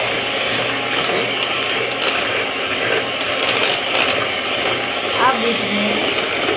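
An electric hand beater whirs steadily through chocolate cupcake batter of flour and cocoa powder, a loud continuous mechanical buzz with faint rattling close by, and a voice is briefly heard over it.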